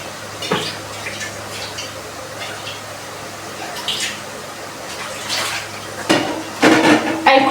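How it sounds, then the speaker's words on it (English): Dishes and utensils washed in a kitchen sink while cooking rice and ground beef: running water with clinks and clatters of cutlery and pots, louder bursts of splashing and knocking near the end, close by. "I cook as I clean, so by the time I'm done, I don't want to have dirty utensils in my sink."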